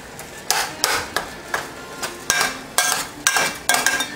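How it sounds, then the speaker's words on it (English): A spoon scrapes and knocks through ground meat in a pan for macaroni goulash, with about ten sharp, evenly spaced clatters close by and no talking. "we'll give our meat a little stir, break it up a little more"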